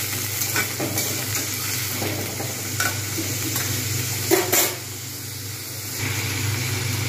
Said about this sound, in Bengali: এবার আমি এর মধ্যে দিয়ে দেবো আলু, আর এতে দিয়ে দেবো ফুলকপি। একটু লবণ দিয়ে এটাকে ভেজে নেব।